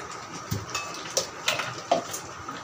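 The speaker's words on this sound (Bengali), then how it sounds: "এবার আমি আবার একটু নেড়ে দেবো।" Mango pickle, sweet and spicy, stirred in a pan: faint, sparse spoon scrapes and light clinks at an uneven pace, close and quiet, with no voices.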